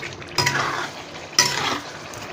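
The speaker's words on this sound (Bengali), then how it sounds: "এবার আমি এটাকে ভালো করে একটু আলুটাকে একটু কষে নিই।" A utensil scrapes twice through potatoes being stirred and sautéed in a pan for a Bengali chicken kofta dish. The two close strokes land about a second apart, with a soft sizzle underneath and no talking.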